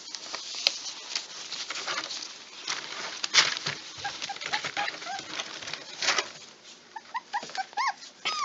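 Two young puppies whimpering and whining in a small pen, high thin cries repeating near and clear over soft pattering movement.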